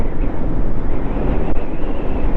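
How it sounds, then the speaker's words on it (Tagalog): Strong, steady wind from an approaching typhoon roars and buffets the microphone continuously at Caliraya, a loud low rumble with gusty fluctuations and no voices. "palakas na ng palakas yung hangin"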